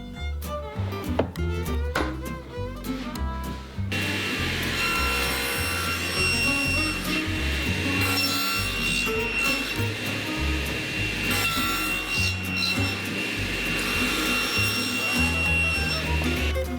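A power saw cuts wood for a half lap joint, a loud, steady, roaring whine that starts abruptly after a few seconds of quieter handling noise and runs continuously to the end, close by.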